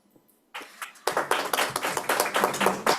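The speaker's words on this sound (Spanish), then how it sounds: "Quiero que redoblemos, por favor, el aplauso" An audience at an international legal conference gives scattered hand clapping after a talk, starting with a few claps and building into brisk, uneven applause close by.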